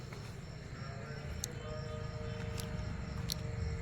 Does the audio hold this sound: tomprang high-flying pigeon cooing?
no